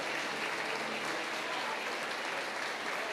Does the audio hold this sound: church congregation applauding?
yes